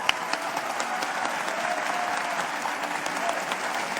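An audience at the Tec de Monterrey applauds steadily, a dense, even crowd clapping that holds at one level from start to finish with no talk over it.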